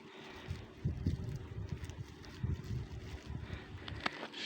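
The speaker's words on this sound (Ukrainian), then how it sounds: "Вітер такий." Cold winter wind buffets and rumbles against the microphone in uneven gusts outdoors in a snowy garden, a low blustery roar with no talking.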